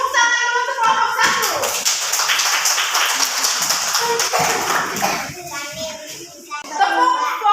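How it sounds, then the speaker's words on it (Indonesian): A classroom group is applauded with a burst of many hands clapping, dense and lively, mixed with children's voices and shuffling, ending in a few scattered claps. "tepuk tangan dulu untuk kelompok"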